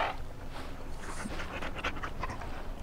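A dog companion pants in Dragon Age Origins, quick breathy huffs repeating steadily for a few seconds at close range, with no talk over it.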